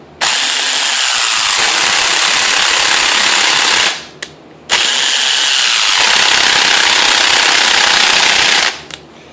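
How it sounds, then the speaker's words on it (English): A DeWalt cordless impact gun on a low battery hammers loudly and harshly in two long bursts of about four seconds each, with a short pause between them and no talking. "pull the trigger, and then increase your hand pressure until it starts to ratchet"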